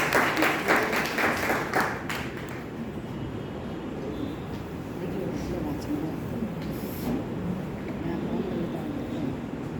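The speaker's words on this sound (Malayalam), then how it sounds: "കൈയടിക്കാം." Audience clapping at a Vishu stage program for an SNDP branch's 35th foundation day celebration, loud and dense at first, then thinning into a steady murmur of crowd noise.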